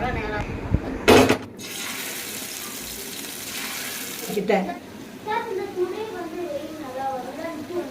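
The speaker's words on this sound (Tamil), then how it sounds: "இப்போ மசாலா தடவி வச்ச ராலை பொரிச்சுக்கலாம்" Masala-coated prawns sizzle in hot oil on a tawa, giving a steady hiss with a burst of louder crackle near the start, as if the prawns have just been added.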